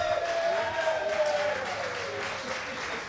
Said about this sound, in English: let's also have a round of applause for our moderators